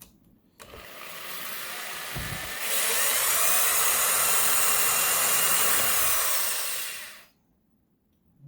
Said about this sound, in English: And so we're just going to drill right in the center of these drawn holes that we have.